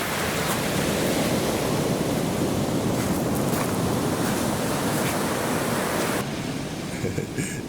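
Surf washes steadily onto the shingle beach at Birdlings Flat in New Zealand, a loud continuous roar of breaking waves that eases slightly near the end.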